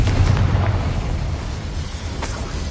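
A deep booming explosion from the Confringo spell in a Harry Potter video game, loud with a heavy low rumble that fades over a few seconds, with a brief sharp burst near the end.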